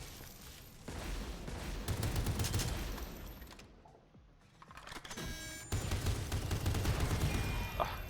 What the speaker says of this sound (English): Dust out the assault rifle when they're at a little longer range. Semi-auto a little more steady.